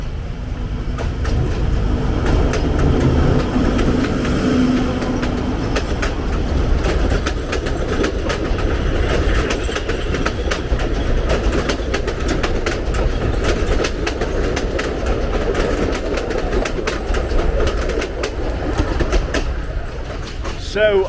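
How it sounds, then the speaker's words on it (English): A train rumbles steadily near the station on the line to Machu Picchu, with continuous rolling noise and faint clickety-clack, loud and close, under occasional speech. "I can hear a train."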